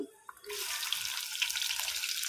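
Onions dropped into hot oil with cumin seeds erupt into a loud, steady sizzle and hiss that starts abruptly and holds close up to the end, with no one talking.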